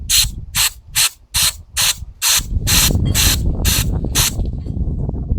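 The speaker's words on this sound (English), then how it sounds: "Now we'll just give a spray inside the primer tube." An aerosol cleaner is sprayed into the primer tube of a Tecumseh Snow King carburetor: about ten sharp, evenly spaced hissing bursts, close and loud, followed by a steady lower rushing hiss.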